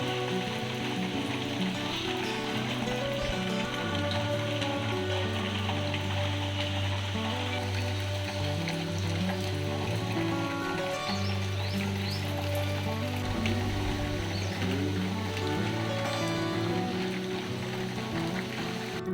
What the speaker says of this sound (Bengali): বৃষ্টির আওয়াজটা একবার শোনো